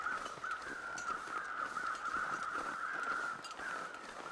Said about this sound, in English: Definitely hearing crows.